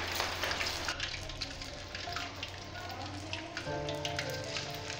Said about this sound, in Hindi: चलें जी अब हम इनको फ्राई करना स्टार्ट करते हैं।